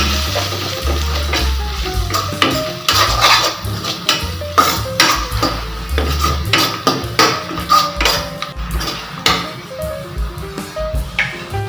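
A spoon stirs sambar spices in a metal cooking pot, giving a steady series of scraping clinks and taps. The strokes come close and fairly loud, speeding into a regular rhythm toward the end, with no talking.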